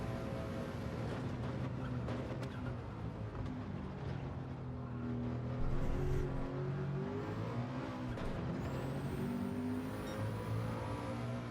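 Engines of racing cars in Gran Turismo 7 during a time trial, a steady loud drone of revving motors with shifting harmonic pitch as one ghost car overtakes another on a straight, no talking.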